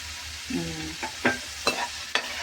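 Ginger paste frying in oil in a pan for crab curry, a soft steady sizzle broken by a few sharp scraping stirs near the end, with no talking.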